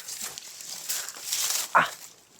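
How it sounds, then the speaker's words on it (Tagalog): Dogs bark a few times in the distance outdoors during a wild boar hunt; faint, scattered yelps and one louder bark rise over quiet background noise. "May mga asong narinig kami tol."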